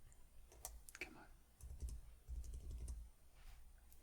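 Plastic keyboard keys click and tap irregularly as dirt is cleaned off a computer keyboard, close and soft, with a few scattered clicks and some low rubbing thumps, with no talking.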